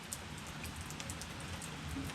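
Steady rain falls outside on a chilly day beside a garage, a continuous even patter and hiss with no voices.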